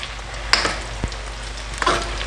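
Chicken pieces frying in oil for chili chicken, coated in cornflour and flour, give a steady close sizzle with a few brief clinks and stirring scrapes and no talk.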